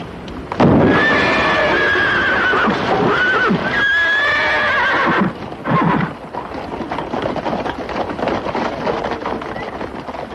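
Loud, close horse whinnies ring out in long shrill bursts, then fade into rustling and faint hoof sounds.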